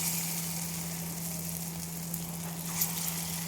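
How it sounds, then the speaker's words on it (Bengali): Pea lentil fritters (motor dal bora) frying in hot oil, giving a steady close sizzle with a constant low hum beneath, unbroken for the whole stretch with no talk. "তেলটা গরম হয়ে গেছে, আমি ছোটো ছোটো করে বড়া এখানে ভেজে নেব।"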